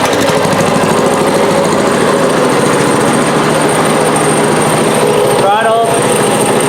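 The small engine of a wooden go-kart runs at a loud, steady buzzing drone, with a brief voice rising over it near the end.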